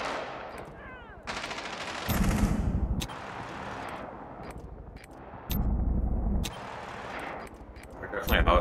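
Rapid automatic gunfire from Rainbow Six Siege on the Border map, several loud bursts separated by short gaps and heavy thuds, with players talking over the shooting.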